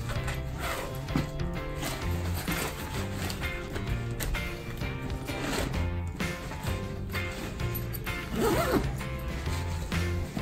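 Zipper on a bag being closed, a string of close, raspy zipping pulls with short pauses between, joined by rustling and handling of the bag, with no talk.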